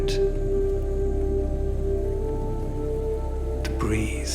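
Mild, delicate rain falls at the living root bridges of Sohra, a continuous soft wash of drops heard at steady loudness, overlaid with a sustained tonal hum and a brief rising sound near the end.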